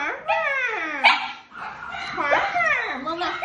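A young puppy whines and yelps in rising and falling cries, loud and close, in a few drawn-out bursts with short pauses between them.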